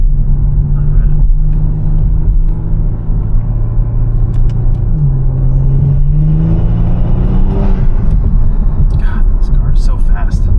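Kia Stinger in sport mode with a JB4 tune on map 2, aftermarket intakes and ARK downpipes, accelerating hard. Its loud engine drone climbs and shifts in pitch, with a voice faintly underneath.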